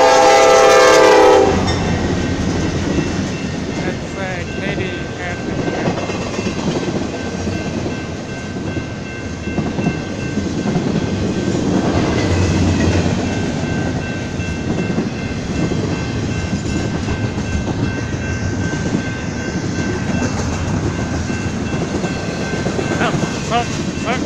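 A short Union Pacific freight train, led by an MKT Katy 1988 locomotive, rumbles loudly past, its horn blaring at the start, followed by a long steady roar and clatter of rolling cars.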